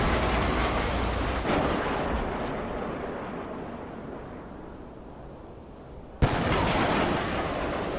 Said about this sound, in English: now everything's going to be fired. 70 missiles up.